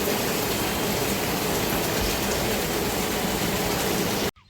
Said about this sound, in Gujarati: વરસાદ તો હજી પણ ચાલુ જ છે